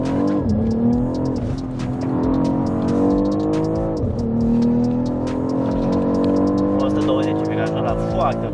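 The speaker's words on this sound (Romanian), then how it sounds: "Este sunetul ăla tipic de biturbo de la BMW, știi?" BMW M biturbo engine accelerating, heard from inside the car with windows down, a loud rising engine drone with repeated gear changes and falling pitch dips, while people talk over it.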